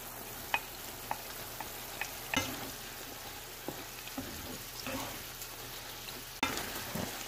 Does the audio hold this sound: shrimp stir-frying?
yes